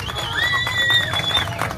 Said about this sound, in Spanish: Fuerte el aplauso a mi público.